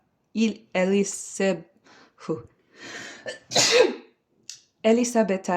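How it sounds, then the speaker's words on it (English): A sharp sneeze bursts out amid nearby speech, with a breathy noisy sound between spoken phrases from a close voice. "I just needed to sneeze first."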